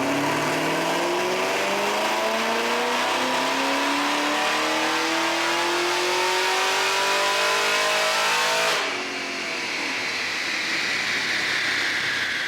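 A Camaro ZL1 running E85 flex fuel screams through a dyno pull, its engine note climbing steadily in pitch for about nine seconds before the throttle closes and the revs drop to a loud, lingering wind-down; no talking.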